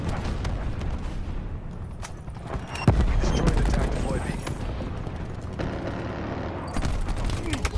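A gunship firing in a team-kill shooter game, heavy bursts of automatic fire and sharp impacts rattling at a distance, with a sharper blast near the middle and people chatting over the action.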